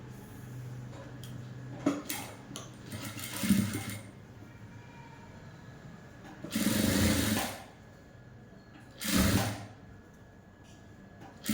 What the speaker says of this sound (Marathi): आता आपल्याला इथं किनारीला शिलाई मारून घ्यायची